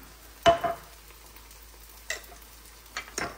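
Chili crab sauce made with Alaskan king crab is stirred in a pan after oyster sauce goes in. A few close, scraping strokes come in uneven bursts over a faint sizzle, with no talking.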